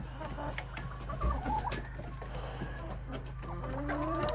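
Young Barvysta Birkivska hens and a rooster cluck in a farmyard, with soft intermittent clucks and short calls at moderate distance over a low steady hum, no voices.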